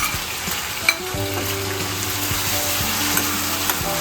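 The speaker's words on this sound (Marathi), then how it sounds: "आता ही दोन ते तीन सेकंद आपण जरा तेलावरती परतून घेऊया" Ginger garlic paste sautéing in hot oil for goat vajri masala, a dense, steady sizzle with a few spoon scrapes and taps against the pan.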